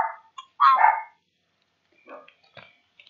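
Dog giving a sharp nearby bark, followed by a few softer, shorter yips and grumbles after a pause, in an otherwise quiet indoor space.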